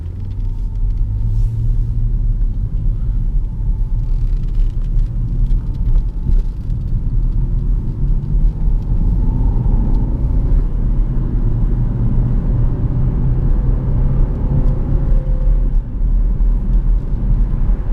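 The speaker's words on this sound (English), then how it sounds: "Everybody should have a 5-litre V8. In race mode." A 2010 Jaguar XF 5.0 V8 S driving in race mode, a loud continuous deep engine rumble with road noise heard from inside the car, steady throughout with no talking.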